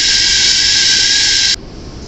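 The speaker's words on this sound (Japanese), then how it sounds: "ちょうど今京都駅を出発していたこの電車、13番線出発の14時46分発のぞみ33号博多駅です" A Nozomi 33 shinkansen leaves Kyoto Station with a loud, steady high-pitched hiss and whine for about a second and a half before cutting off sharply into quieter background noise.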